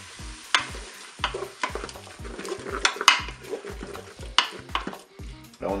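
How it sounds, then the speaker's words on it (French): Raw ham pieces browning in a Cookeo multicooker pot, a soft sizzle under repeated spoon scrapes and clinks against the pot as they are stirred. "Je vais ajouter maintenant mes morceaux de jambon cru."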